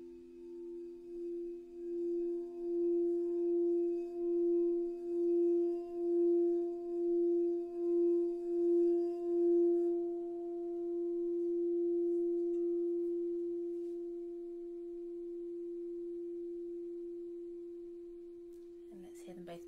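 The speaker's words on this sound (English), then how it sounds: "Another one of the crystal bowls." A crystal singing bowl rings during a sound bath, a steady pure tone sustaining for the whole stretch, gently pulsing at first and then holding smooth and even, with a faint knock at the very end.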